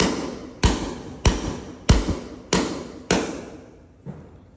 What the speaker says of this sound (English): All you got to do is hammer it in.